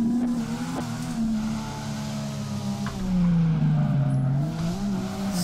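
A stock Nissan 350Z drifting through a full-track challenge in the game DRIFT21, a steady loud engine drone held at high revs with rising and falling pitch and a continuous tire-squeal wash throughout.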